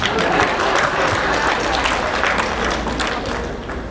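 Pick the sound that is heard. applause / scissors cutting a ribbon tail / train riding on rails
applause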